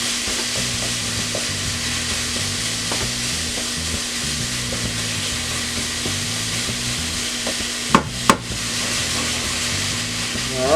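Onions and garlic sizzle steadily in hot olive oil in a pan, a constant bright hiss with occasional clacks of a utensil stirring and mixing, close and continuous throughout.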